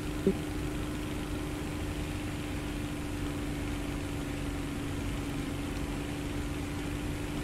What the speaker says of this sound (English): I can throttle up a little bit now because my engine's cool